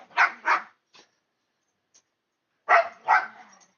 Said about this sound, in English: You can tell the difference in the bark.